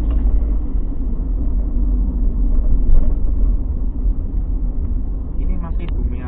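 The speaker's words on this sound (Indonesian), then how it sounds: "Ini truknya gede-gede banget lur yang lewat sini" Heavy trucks rumble past on a road in Paguyangan near Bumiayu, Brebes, a continuous low engine drone swelling and fading as they pass, with people talking throughout.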